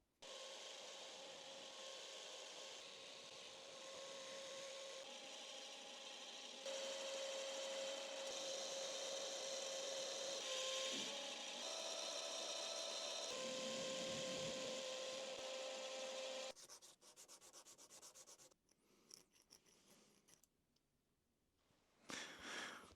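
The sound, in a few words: filing a metal plane casting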